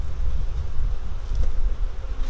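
Honeybees buzzing in an opened, queenless hive, a dense continuous low drone of many bees close by, steady and fairly loud throughout with no voices.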